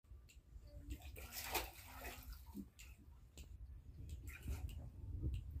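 Water running at a natural sulfur spring, a steady low gushing flow close by, with scattered splashes and faint voices in the background.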